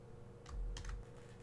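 Computer keyboard typed on while entering a command in a command prompt window, a short close burst of clicky keystrokes over a low steady hum.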